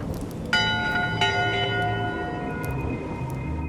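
Ship's bell aboard a pirate ship in Return to Monkey Island, two clear metallic strikes about half a second apart, each ringing on with a long fading tone over low background rumble.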